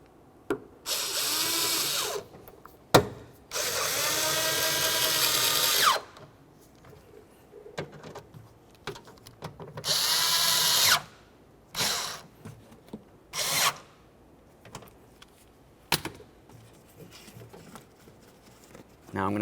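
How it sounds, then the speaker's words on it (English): Door handle mounting screws on a 2001-2005 Ford Explorer Sport Trac are run in by a power driver in several loud whirring bursts, with quieter clicks and handling noises in between. "Once they're both started, snug them up."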